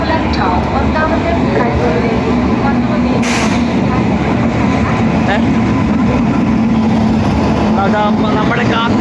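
The Himsagar Express pulls into Ernakulam Town station with a loud, continuous rumble of rolling carriages and engine, platform voices mixed in, and a brief bright horn-like burst partway through.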